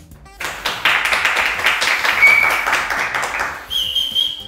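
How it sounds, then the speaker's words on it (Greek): A few studio crew members clap in a home-style cooking studio after a sweet potato curry is finished, a short burst of close claps with a whistle, ending in a sustained whistled tone. "Μην νομίζετε, χειροκροτάνε πάρα πολύ δυνατά."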